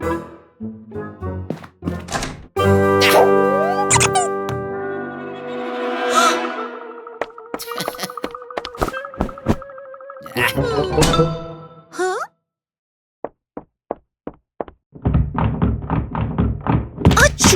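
Knocks on a door in an animated children's film, heard as a few dull thuds and taps amid music, echoing effects and cartoon voices.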